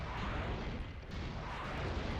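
Muffled explosions rumble from a firefight in the video game Metal Arms, a dense, low, fairly faint roar of blasts running together without talk.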